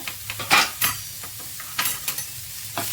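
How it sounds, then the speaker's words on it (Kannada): Chutney ingredients with grated coconut are stirred and fried in a pan, giving a low steady sizzle broken by several close, sharp scrapes and taps of a spoon against the metal. "ಇದನ್ನು ಸ್ವಲ್ಪ ಚೆನ್ನಾಗಿ ಫ್ರೈ ಮಾಡ್ಕೊಳ್ಳೋಣ"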